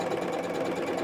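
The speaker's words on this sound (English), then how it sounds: "It's making stitches by itself. I didn't make that last stitch." A Brother SE600 embroidery sewing machine runs steadily nearby, its needle mechanism producing a fast, even whirring chatter of stitches with no pauses.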